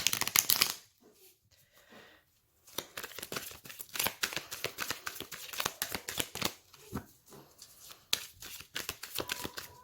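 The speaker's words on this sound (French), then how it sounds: "Je vais faire un autre tirage avec un autre tarot." Tarot cards being shuffled by hand for a reading, a close, dry riffling and slapping that runs in quick repeated bursts with short pauses, no talk over it.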